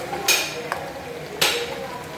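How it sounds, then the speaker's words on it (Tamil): Food being stirred in a pan after simmering under a lid, with two louder metallic scrapes of a spoon against the pan over a quiet, steady cooking hiss. "நம்ம நல்லா இதை கிண்டி விட்டுக்கலாம்."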